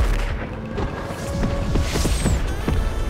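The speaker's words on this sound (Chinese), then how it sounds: "这个就是那个空袭手雷啊" Air strike grenade blasts in the video game Fortnite, a run of deep booming explosions rumbling one after another, loud and continuous with crackling debris.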